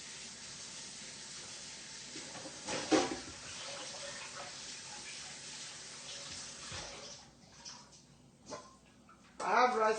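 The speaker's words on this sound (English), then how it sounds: "I like to wash my rice with my hand." Rice washed by hand in water, a low swishing slosh that runs steadily with a couple of louder splashes and a voice speaking briefly.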